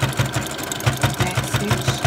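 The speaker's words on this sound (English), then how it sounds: "I secure with the zigzag stitch." A sewing machine stitches a zigzag seam on a fabric frontal band, a loud, steady mechanical whirr with a fast regular clatter of needle strokes throughout, heard up close with no talking.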